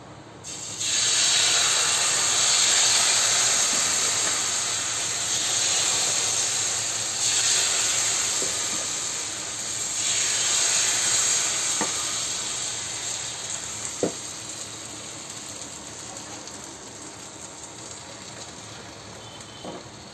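Rice flour dosa batter spread on a hot pan gives a loud, steady hiss and sizzle from close by. It fades slowly over about twenty seconds, with a few faint clicks near the end and no talk.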